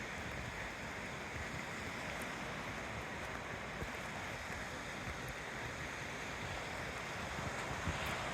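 Ocean surf and wind at Navarre Beach on a sunny day make a continuous broad rushing wash with gusty microphone buffeting, no voices, steady throughout.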